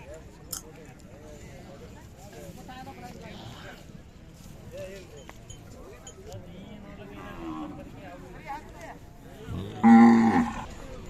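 A Khillar dairy cow gives a loud, close moo near the end, after steady talking over faint farmyard background noise at the Siddheshwar fair in Vijapur.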